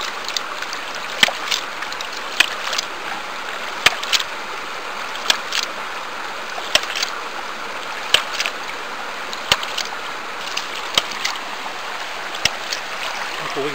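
Water-powered ram pump being primed and set running, its valve giving sharp regular clicks roughly every second and a half over a steady rushing, trickling flow of water.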